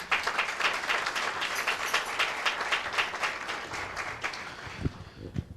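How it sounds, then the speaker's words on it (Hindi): A church congregation at a worship meeting claps together in thanks, a dense, steady patter of many hands that keeps going across the room and thins out near the end. "आइए एक बार फिर से प्रभु का हम धन्यवाद करें,"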